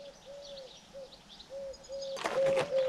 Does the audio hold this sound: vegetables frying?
no